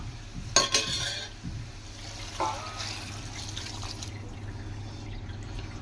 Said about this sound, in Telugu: One and half glass water వేస్తున్నాను.